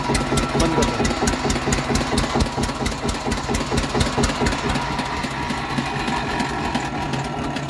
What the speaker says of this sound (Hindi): इंजन तो बढ़िया है।